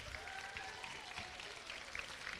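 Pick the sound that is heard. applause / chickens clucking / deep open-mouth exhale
applause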